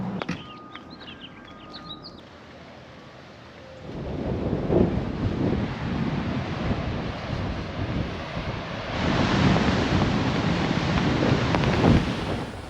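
Blustery wind at a white-sand beach in St. Andrews during a Florida winter storm, a loud, rough roar buffeting the microphone in strong gusts, with faint surf beneath.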